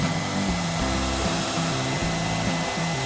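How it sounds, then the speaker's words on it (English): Hand-held blow dryer running on very high heat, a loud, constant close-up whir and rushing airflow with a wavering motor drone throughout, no voices. "So next I am going to take my blow dryer and I'm going to put it on very high heat"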